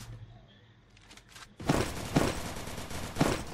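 Bursts of MP40 submachine gun fire in the shooter game Free Fire, three sharp loud volleys after a quieter stretch, each with a quick decaying tail.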